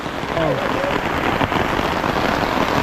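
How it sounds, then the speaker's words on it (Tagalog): Heavy rain pours down in a dense, constant hiss, drumming loudly close by with a faint voice briefly audible underneath. "At lakas po talaga ng ulan dito."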